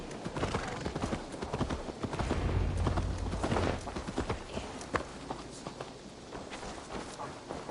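A horse's hooves clip-clop steadily in the Assassin's Creed Valhalla video game, a close, continuous run of hoofbeats that softens slightly toward the end.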